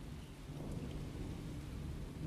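Steady heavy rain with a rumbling thunderstorm from the video game Twelve Minutes, a dense continuous wash of falling water heard outside with no talk.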